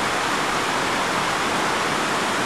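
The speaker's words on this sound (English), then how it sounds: "these waterfalls probably won't be here tomorrow" Waterfalls in the bush, swollen by a fast-rising river, make a loud, dense, unbroken roar of rushing water that fills the whole moment.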